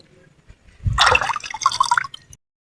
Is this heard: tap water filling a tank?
yes